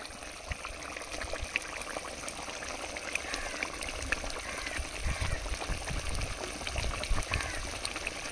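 Ghee is poured over a pan of Bengali stuffed pointed gourd, heard as a soft, quiet trickle and drizzle with light sizzling underneath and a faint voice in the background.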